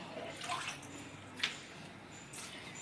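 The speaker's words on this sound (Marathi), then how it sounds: "भांडे सगळे भिजवून ठेवते" Tap water runs and splashes faintly as dishes are left to soak, with a few soft drips and clinks over a quiet household background.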